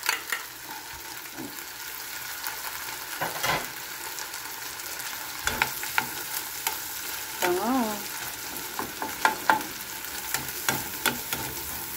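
Chopped onion and garlic sautéing in melted butter in a pan for a creamy chicken and cheese dish, a steady close sizzle with occasional stirring scrapes and a few clinks, no voices.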